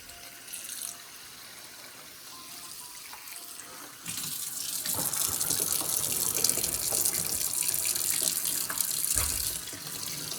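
Water runs steadily from a kitchen tap into a pot of neck bones being covered for cooking, starting with a faint trickle, then gushing loudly and continuously before easing off near the end; no one speaks.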